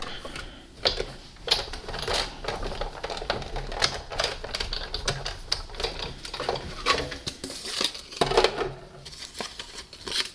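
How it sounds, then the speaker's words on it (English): A Big Shot die-cutting machine is cranked by hand to cut a curvy die shape from paper, giving a close, steady run of rapid ratcheting clicks and taps with no talk. "we'll run it through the Big Shot"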